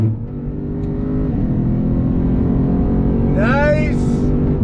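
A 2021 Lexus RC F Fuji Speedway Edition V8 driven on a race track holds a steady, loud engine drone with a rising note near the end, while a driver talks over it.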